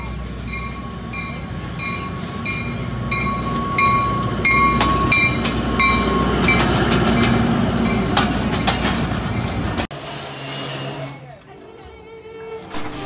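A Pakistani passenger train on the Pasrur to Lahore route rumbles and clatters with rhythmic wheel clacks and a repeating tonal hum, loud and close, before the sound suddenly drops near the end; voices are faintly present.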